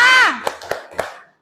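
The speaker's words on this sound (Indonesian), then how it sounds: "kita tepuk semangat dulu" A group claps the 'tepuk semangat' chant: a spoken call, then three sharp, evenly spaced claps close by, trailing into quiet.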